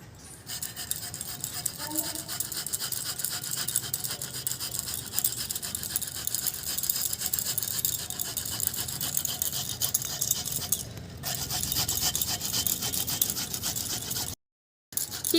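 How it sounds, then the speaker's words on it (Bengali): A small native onion is rubbed against a hand grater in a continuous close rasping scrape that runs for a long stretch, broken only briefly near the end. "এই যে ছোট্ট একখানা দেশি পেঁয়াজ এটা গ্রেট করে নেব গ্রেটার দিয়ে"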